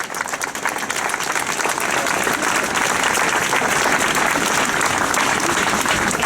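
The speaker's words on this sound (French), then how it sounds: "on peut les applaudir." Outdoor protest crowd in Avranches against the global security law applauds the supporting organisations, a loud, dense, sustained clatter of many hands clapping with no let-up.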